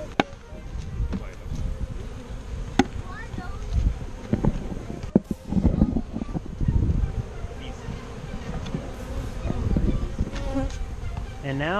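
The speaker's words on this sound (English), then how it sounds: "I'm gonna knock these bees off." A swarm of honeybees buzzes all around while being knocked off into boxes during a capture on a university campus in Washington DC, a loud, close, continuous drone with scattered thumps and people talking over it.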